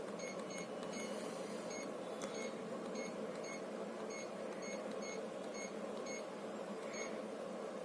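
An air purifier gives a run of short, high electronic beeps as its timer button is pressed repeatedly, each beep faint over the steady whir of its fan.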